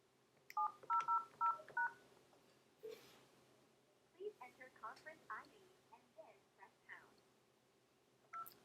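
Telephone keypad DTMF tones dialing into a conference call from the 3CX web client: a quick run of about six crisp beeps, then quieter scattered sounds and a brief faint voice near the end.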